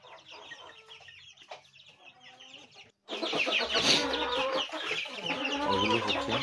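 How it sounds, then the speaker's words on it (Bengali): Two-month-old Aseel chicks cluck and cheep, softly and sparsely at first, then a dense, loud chorus of many birds calling close by. "এগুলো হচ্ছে ২ মাস বয়সী অরিজিনাল আসল মুরগির বাচ্চা।"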